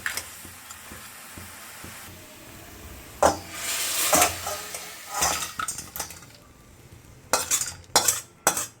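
Fried sea crab is stirred in a pan and poured into a bowl: a soft sizzle under metal scraping, then loud clanks and knocks of the pan and spatula toward the end.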